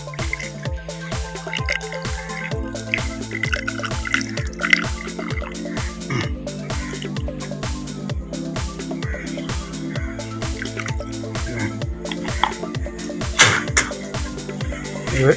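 Water drips steadily and close by as catfish fry feed is strained through a net, a fast, busy run of small drops over a tonal background hum.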